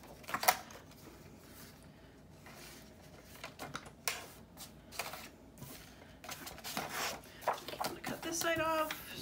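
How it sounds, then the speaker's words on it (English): Paper being cut with scissors during a 6 x 6 paper pocket craft, a run of short crisp snips and rustling paper handling, close and moderately loud, with a few sharper cutting strokes near the end. "I'm just going to cut these 2 together."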